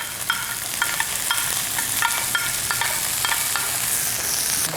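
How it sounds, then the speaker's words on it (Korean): Onion and garlic frying in olive oil in a pan: a loud, steady sizzle with rhythmic scraping strokes of a stirring utensil, close up and with no one speaking. "양파, 마늘은 이렇게 볶으면서 그 황금색이 나오면 가장 맛있어요."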